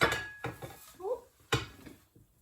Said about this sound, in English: once all the omelet's set, you can remove that from the pan, pop it on a plate